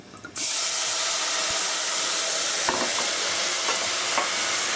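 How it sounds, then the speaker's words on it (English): A splash of wine hits hot risotto rice in a pan and bursts into a loud, steady sizzle and hiss, with a few faint scrapes of stirring, and no voices. "I'm going to add our first liquid, which is going to be a splash of wine"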